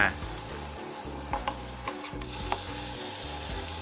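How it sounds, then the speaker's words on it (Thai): Garlic and minced pork are stir-fried in a pan, with a continuous sizzle broken by several sharp scrapes and knocks of the spatula against the pan, close and fairly steady. "ใส่กระเทียมลงไปก่อนผัดให้หอมครับ แล้วก็ตามด้วยหมูสับ ผัดเขาให้สุกสักนิดนึง"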